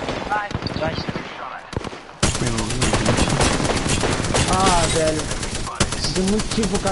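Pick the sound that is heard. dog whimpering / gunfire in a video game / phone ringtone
gunfire in a video game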